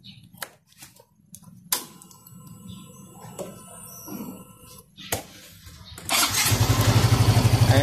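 A motorcycle engine is cranked and catches after a kill switch is fitted: several quiet clicks and knocks, then the engine starts near the end and settles into a loud, steady, throbbing idle up close.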